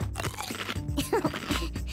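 A crunchy apple is bitten and chewed up close, with a few crisp crunches over about two seconds and no talking.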